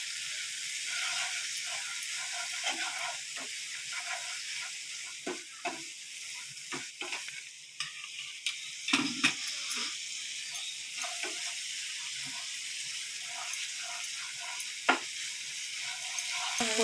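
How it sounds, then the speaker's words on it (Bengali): Chilli and cumin powder fry in oil over medium-low heat as the spice base for a pabda fish mustard curry, giving a steady close sizzle broken by scraping stirs, with no talk. "একটু ভাজা ভাজা হবে।"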